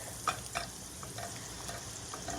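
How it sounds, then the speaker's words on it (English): Butter melts and sizzles in a hot pan on the stove, a soft steady frying crackle with a few brief louder pops and stirring clatter, no talking over it. "we're going to get that butter melted"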